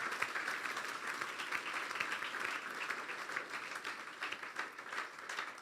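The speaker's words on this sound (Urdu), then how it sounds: "پھر بجا دیں یسوع کے لیے زوردار تالیاں۔" Sustained applause from a church congregation during a sermon fills the room evenly, a steady wash of many hands clapping at moderate distance with no break.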